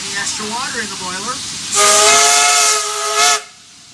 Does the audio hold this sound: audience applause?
no